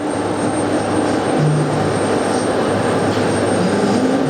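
A Boeing 747-400 freighter jet comes in to land at JFK airport, its engines giving a loud, continuous broadband roar with a steady low drone, close and sustained throughout.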